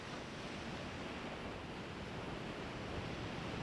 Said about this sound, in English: they release their energy as potentially deadly waves weighing thousands of tons